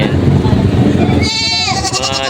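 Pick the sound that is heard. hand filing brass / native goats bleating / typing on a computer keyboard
native goats bleating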